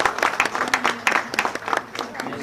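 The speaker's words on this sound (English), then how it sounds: "Please, a final round of applause for this great panel." Scattered clapping from an audience at an academic policy event gives a final round of applause for a panel, with a few individual claps standing out over lighter background clapping and murmur.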